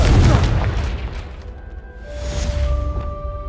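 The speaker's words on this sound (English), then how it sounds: "Confringo!" A Confringo spell blast in Hogwarts Legacy sets off a loud boom with a rumbling burst, fading and then swelling again with a whooshing tail and faint tonal chimes, a voice briefly audible underneath.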